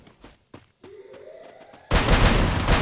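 A few scattered sharp shots, then a sudden dense burst of rapid gunfire roaring continuously, loud and close, in a synthetic game-like mix from Free Fire.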